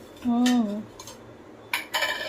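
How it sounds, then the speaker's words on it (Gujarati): Kitchen containers are set down and put away with short metallic clinks and knocks, a few brief clatters spaced out near the end, following a faint tonal squeak at the start. "જ્યાં લગીને ચા ઉકળે છે ત્યાં લગીને આપણે આ બધા ડબ્બા મૂકી દઈશું."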